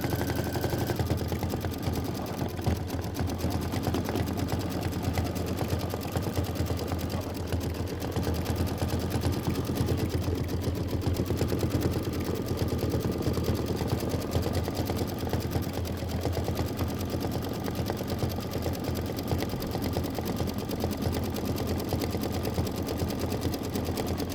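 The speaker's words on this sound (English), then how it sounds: "Just doing a nice big satin stitch." An embroidery sewing machine works a big satin stitch, running in a continuous fast, steady mechanical chatter for the whole stretch, close and even.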